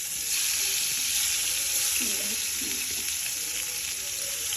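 Pieces of bitter gourd frying in very hot oil, giving a steady, dense sizzle that runs unbroken throughout with faint watery crackle beneath and no voices.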